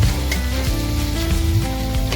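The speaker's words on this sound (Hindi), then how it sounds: "थोड़ा सा भून लीजिए इन शलगमों को भी, जिससे ये अच्छे से करारे से बनेंगे।" Turnips fry in a pan for a Punjabi-style turnip and spinach dish, giving a close, loud, continuous crackling sizzle with no voices.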